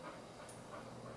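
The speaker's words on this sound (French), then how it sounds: "C'est un gros chien?" A Bernese mountain dog whimpers and pants softly, a brief faint whine over quiet breathing in a room.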